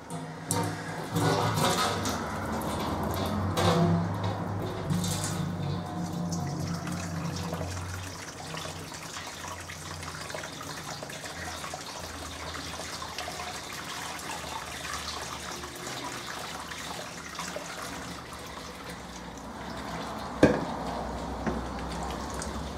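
Homebrew wort for an American pale ale pours through a colander onto a grain bed, a steady splashing and trickling stream lasting throughout, close and moderately loud, with one brief clink.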